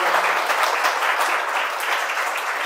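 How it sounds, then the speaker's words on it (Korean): An audience at an art exhibition artist talk bursts into steady, dense clapping that holds for a few seconds, filling the room evenly with no voices over it. "박수 한번 부탁드릴게요"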